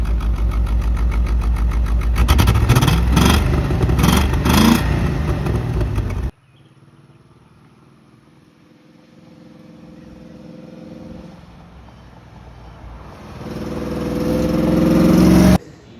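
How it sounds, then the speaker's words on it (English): A high school project Corvette that leaks oil and is missing cylinders roars loudly up close with several throaty rev bursts, then drops off to a distant low rumble before building back up to a loud rev. "Rev it!"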